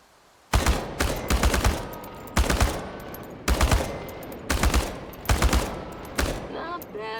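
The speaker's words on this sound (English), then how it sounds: "The biggest challenge is compensating for recoil in automatic firing mode." Automatic gunfire at cans on a shooting range in Chernobylite, several loud, near bursts of rapid shots separated by short pauses, the shots ringing out alone without talk.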